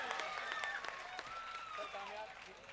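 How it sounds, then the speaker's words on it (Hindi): An audience at a comic poetry mushaira in Darbhanga claps in a short, faint burst of applause while voices talk and call out over it. "एक मरतबा जोरदार तालियां"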